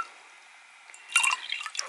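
Water is poured off washed enamel powder in a small vessel, starting as a faint trickle, then breaking into a brief burst of splashing and dripping near at hand, with no voices.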